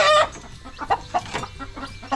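Backyard chickens, including a hen, cluck in a series of short, close, fairly loud calls, opening with a louder crow-like squawk and then irregular clucks over about two seconds.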